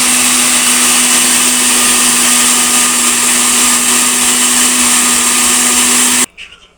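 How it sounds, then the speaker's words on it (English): A blender roars at high speed blending a liquid brine, with a steady motor whine for about six seconds, then cuts off abruptly. "what we're gonna do is use the blender and blend it"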